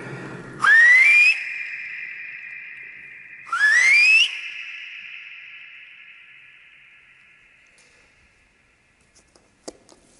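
Two shrill whistle blasts inside a railway tunnel, each rising in pitch and lasting under a second, followed by a long echoing ring that slowly fades into near silence.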